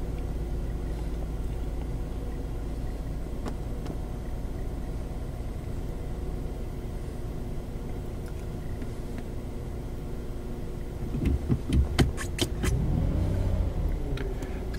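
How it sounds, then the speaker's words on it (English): Hyundai car engine running at a steady, low idle, heard from inside the car, with a brief burst of clicks and a short rise in engine noise near the end. "Let's start the car up."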